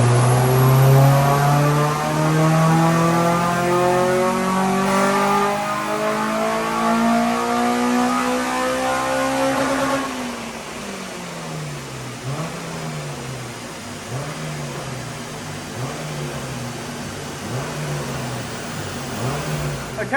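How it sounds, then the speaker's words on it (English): A Honda Civic Type R EP3 engine revs hard on a dyno power run, its pitch climbing steadily for about ten seconds before lifting off into a wavering, pulsing wind-down, loud and close, with no talking. "So here we go, first power run on this vehicle."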